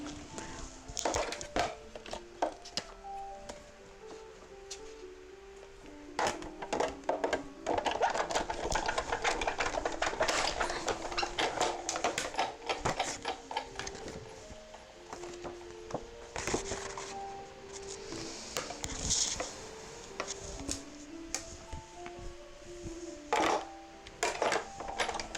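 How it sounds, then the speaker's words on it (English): Cardstock is cranked through a Big Shot embossing machine inside an embossing folder, producing a long run of ratcheting, clicking and grinding mechanical noise with scattered knocks, close and fairly loud, with occasional faint voice. "I'm just running it through the embossing folder, running through the Big Shot"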